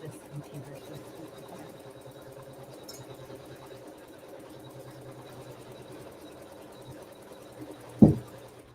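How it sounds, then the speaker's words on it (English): Embroidery machine tacking fabric down and sewing a placement stitch, a continuous soft rhythmic stitching hum heard fairly faint with a voice talking over it, and a sharp knock near the end. "the machine is going to tack that fabric down, and it's also going to sew a placement stitch"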